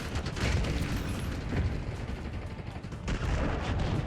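Artillery strike in Call of Duty lands as a dense, continuous barrage of heavy booms and rumbling blasts, loud and sustained throughout with no pauses.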